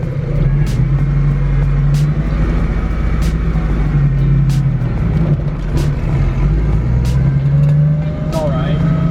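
A Foxbody drift car with no e-brake pulls away in first gear, its engine droning loud and steady from inside the cabin while people talk over it.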